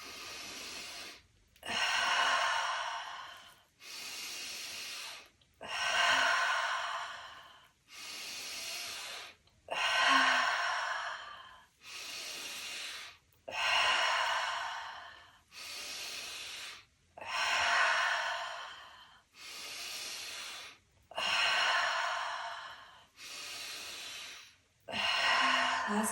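Deep, slow breathwork breathing during a mindful clay art session with cacao: about a dozen long, close inhales and exhales in an even rhythm, each separated by a brief pause, with no talking.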